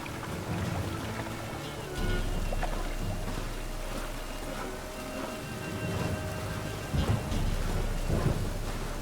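Steady rain pours with rolling rumbles of thunder in The Witcher 3, a dense wash of falling water and low booms swelling near the end, with no voices.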